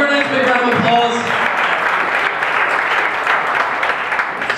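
A comedy club audience at the Comedy Zone in Charlotte breaks into loud, dense applause that holds steady, close and full, after a voice briefly speaks at the start.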